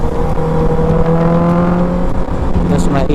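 A motorcycle with ECU tuning, a titanium sprocket, velocity stacks and an Akrapovic muffler revs hard, a loud close steady engine drone with rising pitch that fills the short moment.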